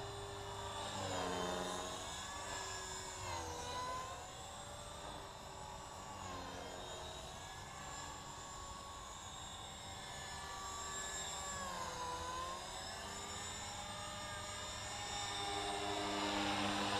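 A 450 Pro RC model helicopter hovers and flies on a warm-up flight, its high rotor and motor whine holding close and steady while the pitch rises and dips repeatedly with throttle changes.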